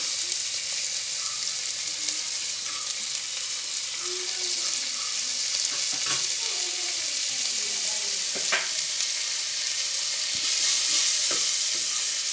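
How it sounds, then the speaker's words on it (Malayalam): Slit green chilies and chopped onion sizzle in hot oil with popped fenugreek seeds while being stirred, a steady close frying hiss with occasional scraping taps of the spoon and no talking. "ഉലുവ പൊട്ടിയ ശേഷം നമുക്ക് അതിലേക്ക് പച്ചമുളക് കീറിയതും ഒരു സവോള അരിഞ്ഞ് വെച്ചതും അതിലിട്ടിട്ട് നന്നായിട്ടൊന്ന് ഇളക്കി കൊടുക്കുക."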